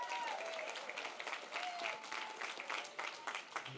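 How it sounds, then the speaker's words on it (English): Guests at a wedding reception give a round of applause during a toast, a steady wash of many hands clapping together with some voices mixed in, heard from moderately far off. "Let's give a round of applause to the Carr family."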